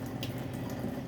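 Strawberries rinsed under a kitchen tap at home, a faint, brief steady splash of running water with no voices.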